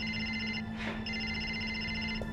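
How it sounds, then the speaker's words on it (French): A telephone ringing indoors during a TV drama scene, a steady electronic warble that pauses briefly then resumes, moderately loud over a faint background hum. "C'est ton téléphone qui sonne?"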